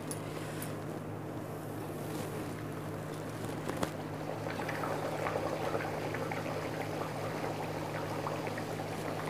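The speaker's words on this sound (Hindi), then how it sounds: "भटूरा तलने के लिए मैंने ऑयल पहले से ही गर्म किया है, अब मैंने जो भटूरा बेल के रखा था उसे हम इसमें तल लेंगे" Rolled bhatura dough fries in preheated hot oil, giving a steady, close bubbling sizzle that grows slightly busier midway, with no talking.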